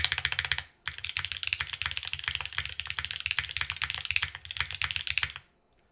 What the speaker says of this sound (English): Damn, this is a very bright keyboard.